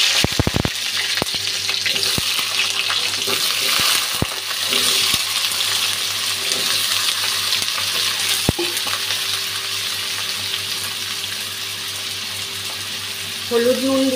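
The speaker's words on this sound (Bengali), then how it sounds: "এখন আলুটা ভেজে নিচ্ছি।" Potatoes sizzle and fry steadily in a pan for a jhinga aloo ghonto, a continuous close crackle with a few sharp clinks of utensils scattered through it and no talk.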